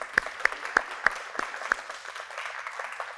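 An audience welcoming a physio and Pilates presenter back to the stage with applause: a few sharp, distinct claps at first, then scattered clapping that thins into a sparser, moderate patter.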